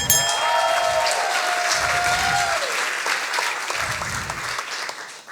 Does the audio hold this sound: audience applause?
yes